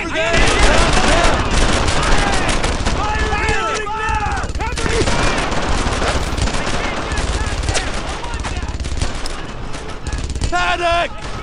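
Dense gunfire and machine-gun bursts rattle on without a break in the Brothers In Arms: Earned In Blood video game, while soldiers shout and talk over the shooting.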